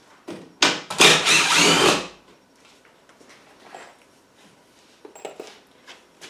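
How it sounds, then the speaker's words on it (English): Power drill backing out temporary screws from wood during a rabbit house build, with one loud whirring burst of about a second and a half followed by quiet clicks and handling sounds. "So go ahead and remove my temporary screws."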